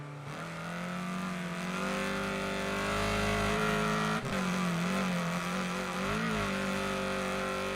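Race cars in the video game Wreckfest 2 roar steadily at high revs, engine tones rising and falling as they power through a corner, loud and continuous with a brief dip midway.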